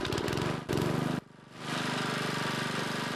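A lawn mower engine roars loudly and steadily with a rapid throbbing pulse, briefly cuts out, then revs back up and keeps running at full power close by.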